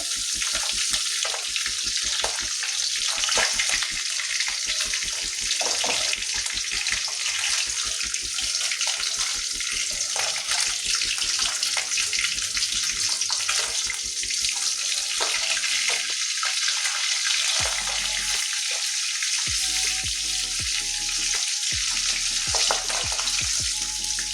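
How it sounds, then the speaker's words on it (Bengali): Pieces of hilsa fish frying in hot oil give off a loud, steady sizzle and spatter, close and continuous throughout, with occasional clinks and brief lulls as pieces are handled. "দুদিকেই লাল লাল করে ভেজে নিয়েছি।"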